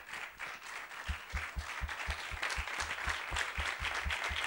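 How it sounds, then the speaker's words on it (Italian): Audience at a short-film festival event clapping, starting scattered and quickly settling into steady, fairly distant applause with a regular rhythmic beat, no voices over it. "l'applauso me lo voglio proprio dividere con Adolfo Perugia."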